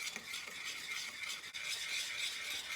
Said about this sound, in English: I'm stirring and waiting for those edges to get bubbly.